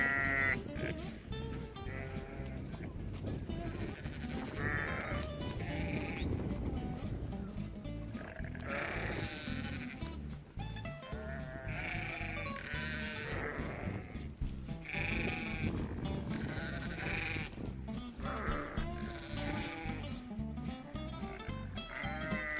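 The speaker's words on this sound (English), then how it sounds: "Sheep really do have different faces." Sheep and small lambs on a farm at feeding time, bleating again and again over a steady background din, with faint people's voices mixed in.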